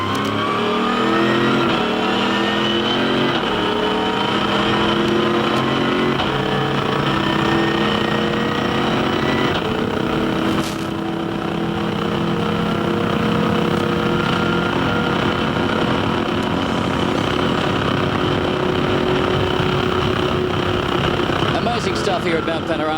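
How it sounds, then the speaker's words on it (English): A 427 7-litre Chev-based race car engine screams at high revs on a lap of Mount Panorama, Bathurst, during a 24-hour race, loud and sustained with a brief dip as it shifts, continuous throughout. "a glorious sound, just an absolute superb sound from this 427 7-litre"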